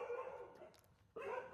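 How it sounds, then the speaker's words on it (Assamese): A dog barks while chasing after people on foot, its bark carrying over a broad steady background rumble that drops away briefly before returning loud. "কুকুৰে খেদি আছে গাইজ"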